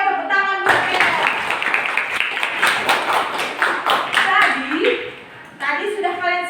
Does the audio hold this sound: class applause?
yes